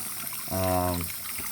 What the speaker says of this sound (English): Water flow does appear to be pretty steady.